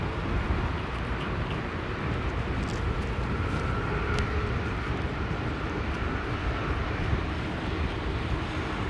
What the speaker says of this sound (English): There you go, 787-8 Air Canada Bandit livery